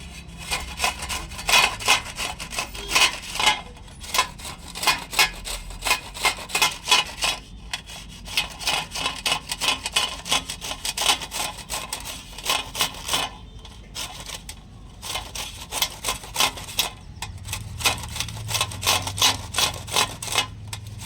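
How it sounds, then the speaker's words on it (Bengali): Cooked mangoes with their skins on are rubbed through a strainer for a tangy, spicy mixed-spice mango pickle, making a steady rhythmic scraping and rasping of repeated close strokes throughout. "এবার আমি একটা স্ট্রেনারের সাহায্যে আমগুলোকে ঘষে নেবো"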